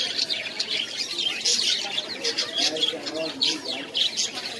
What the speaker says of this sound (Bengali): এটা হচ্ছে কোয়েল পাখি